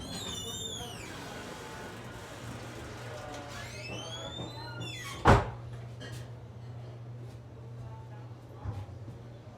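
A restroom door at a ski area is heard as one sharp, loud thud partway through, with a smaller knock later, over a steady low hum and faint background noise.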